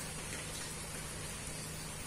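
Steady, dense rain falls outside, a continuous even hiss of drops on surfaces with a low rumble beneath, moderately loud and without breaks.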